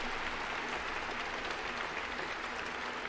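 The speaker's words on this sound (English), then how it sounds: "Let's give one more round of applause for our outstanding student athletes." Steady, dense applause from a large audience honoring student athletes at a university event, sustained and even throughout without a break or voices.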